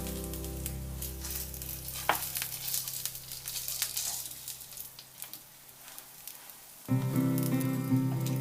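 Vegetable momo filling fries in a hot pan with a steady, soft sizzle and an occasional scrape, the crackle swelling louder and fuller near the end.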